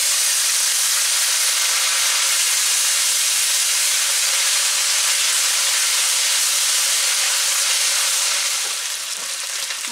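Ginger paste fries in hot oil with dried chillies, bay leaf, panch phoron and asafoetida, giving a loud, continuous close-up hiss and sizzle that holds steady and eases slightly near the end, with no talking.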